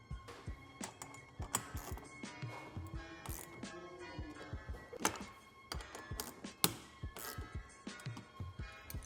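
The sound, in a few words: tightening bolts on a golf cart roof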